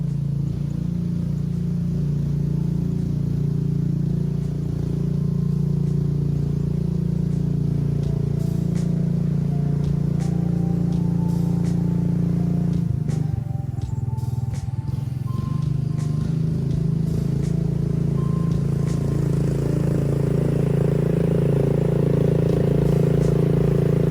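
A 16-plus horsepower 440cc golf cart engine with a centrifugal clutch labours up a hill, a steady loud close drone with clattering rattles, briefly easing midway before pulling hard again.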